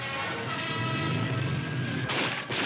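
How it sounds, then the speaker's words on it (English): Gunshots cracking through city streets during an uprising in which workers confront tanks, heard as a loud continuous rumble of crowd and machinery with a couple of sharp reports near the end. "Da peitschen die ersten Schüsse durch die Straßen."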